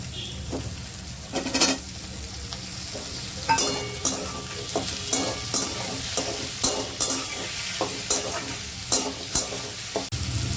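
Cut potatoes frying in a pan with garlic and ginger for a kabuli chickpea dish, loud continuous sizzle broken by regular scraping strokes of a stirring spoon.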